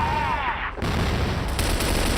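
Rifle gunfire in the first-person shooter Crossfire during a tournament match, a dense stream of rapid shots and bursts layered with game effects, loud and continuous, with a faint voice underneath.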